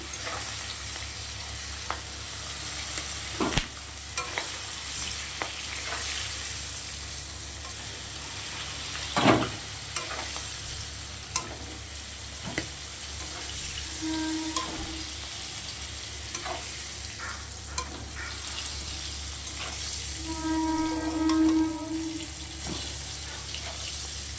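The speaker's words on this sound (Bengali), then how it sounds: "চিংড়ি মাছটা ভেজে নেবো। খুব বেশি কিন্তু ভাজবো না, জাস্ট হালকা নাড়াচাড়া দিয়ে তুলে নেবো।" Prawns frying gently in a pan over low heat, a soft steady sizzle with occasional stirring scrapes and clinks, plus a brief burst of water running near the end; no talking.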